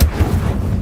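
Incendio fire spell cast in the Hogwarts Legacy video game, a single loud, close, booming burst of flame that rumbles heavily and fades within a second, heard alone.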